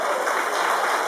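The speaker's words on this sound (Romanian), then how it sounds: "Merită aplauze!" A brief, even burst of audience applause at a community event in Mănăstirea Cașin, dense and moderately loud throughout.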